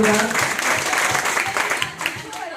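Audience applause at a women's empowerment stage event, a brief dense round of clapping from a crowd, fairly loud, with voices mixed in and easing toward the end.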